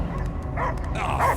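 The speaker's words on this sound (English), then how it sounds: "I hear only barking." Dogs in the Marvel's Guardians of the Galaxy video game give a few short barks and yips, loud and near, over a low rumbling game soundscape.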